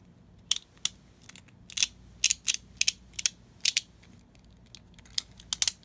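A Beyblade Burst Wizard Fafnir top's ratchet teeth click sharply in uneven bursts of single and double clicks, loud and close, with no talking.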